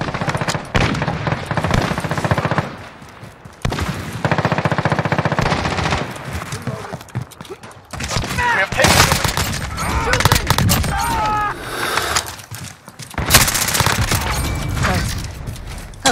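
Automatic gunfire in a first-person shooter video game, loud rapid bursts of machine-gun fire in rattling volleys with brief gaps between them, mixed with game effects and occasional voices.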